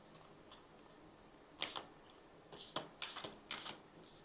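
Tarot cards shuffled and pulled by hand in a quiet room, a few soft crisp riffles and slaps, the last three sharper and clustered near the end, close and fairly faint.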